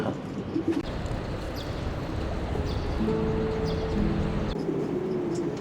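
Pigeons coo on a city rooftop where they have been kept for decades, a few low, soft, repeated coos heard fairly close against a steady background hum.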